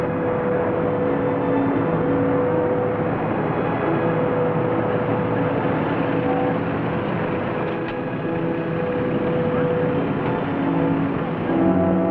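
A car drives steadily with a continuous muffled engine drone and road rumble, heard close and unbroken on a narrow-band 1960s television soundtrack.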